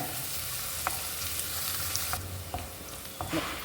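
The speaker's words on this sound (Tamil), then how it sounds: "இப்போ இஞ்சி பூண்டு சேர்த்துக்கிடலாம் இஞ்சி பூண்டு வாசனை போகட்டும் நல்லா வதக்கிக்கோங்க" Ginger and garlic sautéing with browned onions in a pan as part of a chicken gravy, a soft steady sizzle with a few light stirring scrapes and clicks, fairly quiet and with no talking.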